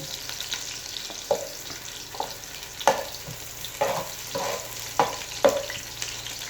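Ginger fries in a pan for chicken-feet adobo (adobong adidas), with a soft sizzle broken by several sharp, close utensil taps and scrapes at irregular intervals.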